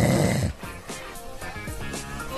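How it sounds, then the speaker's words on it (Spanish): Snoring from a sleeper, the sound of disrupted sleep, with a loud rough inhale at the start followed by quieter rasping, breathy rhythmic noise. "a mí me parece muy desagradable el ruido del ronquido"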